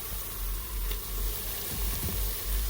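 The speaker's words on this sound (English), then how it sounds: "we're gonna go ahead and add the chicken for the browning process." Chicken browning in hot oil for a coconut curry, a soft, steady hiss of frying with faint crackles, fairly quiet and uninterrupted.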